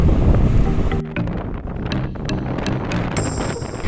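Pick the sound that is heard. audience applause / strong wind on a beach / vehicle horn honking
strong wind on a beach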